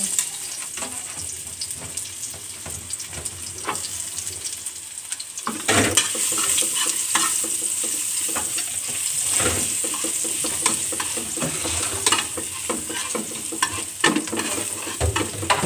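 Onion and garlic sautéing in a pan with a little cooking oil, a steady close sizzle with stirring and scraping, growing louder partway through as the ingredients hit the hot oil.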